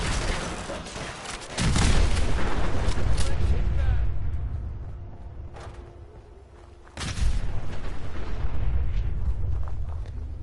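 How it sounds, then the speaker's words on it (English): Gunfire striking a fusion core in Fallout 4 sets off a loud burst of shots and a blast, followed by a second heavy boom about two-thirds through, with rumbling debris and a faint hum between. "Let's shoot this fusion core."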